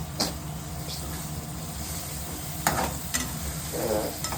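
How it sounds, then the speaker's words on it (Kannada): Fenugreek leaves fry in oil in a pan with a steady sizzle, broken by a few sharp clinks and scrapes of stirring, close and moderately loud with no talk. "ಮೆಂತ್ಯ ಸೊಪ್ಪು ಇದೆಲ್ಲ ಎಣ್ಣೆಲಿ ಫ್ರೈ ಆಗ್ತದೆ."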